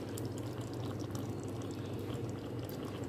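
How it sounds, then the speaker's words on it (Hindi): Yogurt poured into a cooking pot on the fire while preparing a mince dish, giving a steady, dense, wet pouring and sizzling wash that runs unbroken and close, with no talking. "अभी इसमें मैं दही डालूंगी और जो है ना ये देखिए ये दही मैं इसमें डाल रही हूँ"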